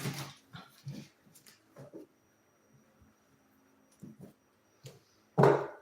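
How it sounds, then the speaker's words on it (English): A neighbor's dog barks in the distance, a few scattered yaps spread through a quiet stretch, with one louder bark at the end. "Neighbor's dog's got something to say"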